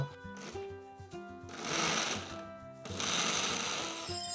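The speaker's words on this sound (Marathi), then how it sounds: "आणि आता हे मिक्सर मध्ये फिरवून" A mixer grinder whirs as it blends coconut with buttermilk in a home kitchen, running in two loud, steady bursts over light background music.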